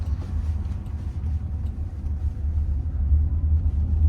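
A driverless car turning on the road, heard from inside as a steady low rumble of engine and road noise, rising slightly toward the end.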